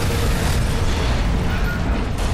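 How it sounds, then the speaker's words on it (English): Dense, continuous rumbling blasts and booming explosions fill the clip, loud and layered like heavy combat in the game Watch Dogs, with no voices. "So much explosions."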